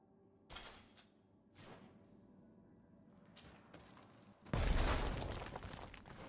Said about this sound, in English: Biggest explosion ever.